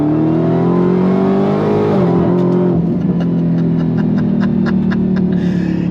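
A Dodge Challenger Demon launches at full throttle on a quarter-mile drag run, its loud engine roaring steadily. The revs climb, dip briefly at a shift, then climb again, with a rapid whining ticking running over the top in the second half.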